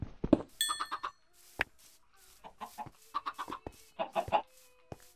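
Bursts of chicken clucking in Minecraft come in short, uneven clusters, along with a few sharp clicks and faint tonal game sounds.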